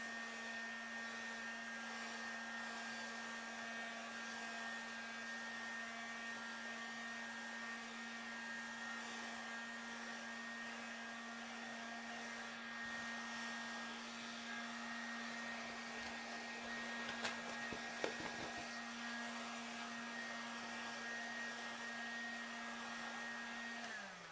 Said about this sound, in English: I use a hot gun, so it should be a quick process.